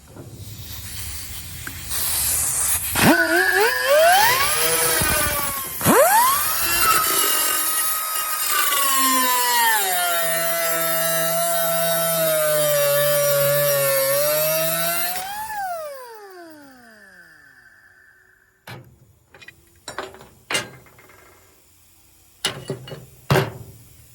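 A power tool cuts a Stihl chainsaw muffler in half, spinning up to a loud, high, steady whine that holds for about twelve seconds and then winds down, followed by a few sharp clanks and taps.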